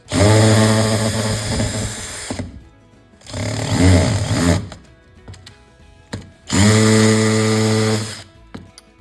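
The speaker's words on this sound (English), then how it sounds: "I'm going to set my drill to hammer, and I'm going to set it to slow" A power drill set to hammer mode at slow speed with a blunt bit runs in three long, loud bursts with pauses between them, its motor whining and rattling as it hammers steadily.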